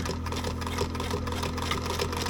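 A domestic sewing machine stitching binding onto a quilt, running as a steady close whirr with a fine rapid needle rhythm that holds for the whole stretch, with no talk over it.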